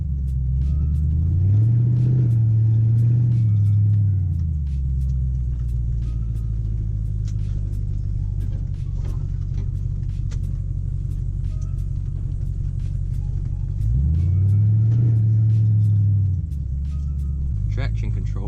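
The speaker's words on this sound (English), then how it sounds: "Just had to give it some revs so I could make sure that belt ain't gonna fly off" A Crown Victoria or Grand Marquis V8 idling close by after a belt replacement, with two brief revs rising and falling, one near the start and another near the end, over a steady low rumble.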